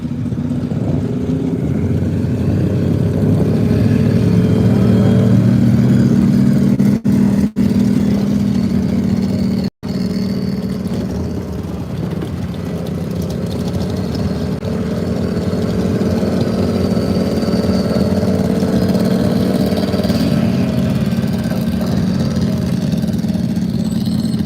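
A Dodge Power Wagon flatbed and a turbocharged Polaris Razor at an off-road drag event, engines droning loud and steady for a long stretch, idling and revving with a rising whine, a few sharp dropouts cutting through.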